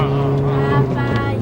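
Volkswagen Sharan TDI minivan overtaking on the road, a steady droning engine hum with harmonic whine heard from inside, loud and continuous with a faint voice beneath.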